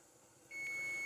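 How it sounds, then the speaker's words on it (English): A kitchen timer signals rice is done cooking, starting abruptly as a single sustained high electronic tone that holds steady and clear after a quiet moment. "when that buzzer goes off, I'll come and turn the fire off and lift the lid"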